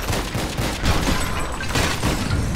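Rapid gunfire bursts from a Lara Croft and the Guardian of Light video game battle, dense and continuous crackling shots with booming low end, loud throughout with no talking.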